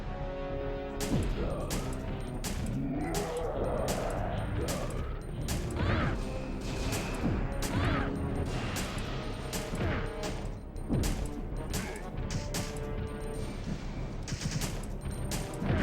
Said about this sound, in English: I'm gonna just help him with bullets.